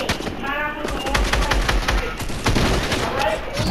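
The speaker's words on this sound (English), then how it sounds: "I hear shooting." Fortnite gunfire rattles in rapid automatic bursts and single cracks throughout, fairly close and loud, with players' voices talking over it.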